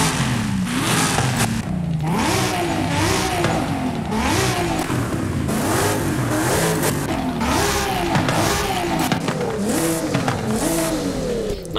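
A tuned 820-horsepower Nissan Nismo 370Z drift car engine in Forza Horizon 5 revs hard again and again in quick rising-and-falling bursts, loud and close, with a raspy, aggressive tone and no talking.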